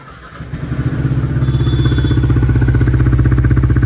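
A Yamaha R15 motorcycle with a dB killer fitted in its exhaust idles close by with a steady, throbbing thump, then settles into an even, rising rumble that fills the clip.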